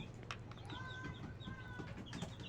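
Rhode Island Red chickens, young future breeders kept in a free-range pen, cluck and chirp softly at moderate distance over a steady farmyard background hum, with no voices.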